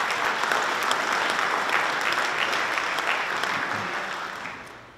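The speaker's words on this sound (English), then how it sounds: "let's give those two departments a great round of applause" A crowd claps steadily and fairly loudly, then the applause fades out toward the end.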